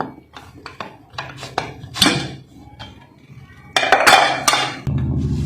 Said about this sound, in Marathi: आता कुकर ओपन करून घेऊया